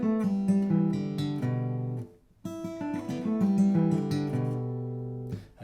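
Steady guitar picking in a backward banjo roll pattern on open strings, notes cascading continuously with a brief pause midway before the pattern resumes.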